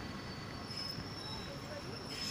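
Interior of a Moscow suburban electric train carriage near Depo platform in autumn, a steady broadband rumble and hum of the railcar with a faint high whine, continuous and fairly quiet throughout.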